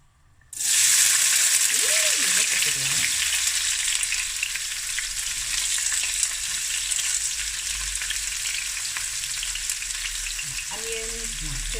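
Onions and peppers hit a hot pan for a seafood rice and burst into a loud, steady sizzle that fills the whole stretch after a short silent start, with faint stirring and brief speech underneath.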